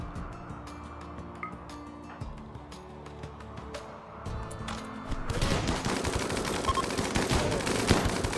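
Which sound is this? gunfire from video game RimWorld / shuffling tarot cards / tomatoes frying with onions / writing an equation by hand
gunfire from video game RimWorld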